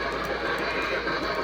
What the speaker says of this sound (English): Oh, the train's going through.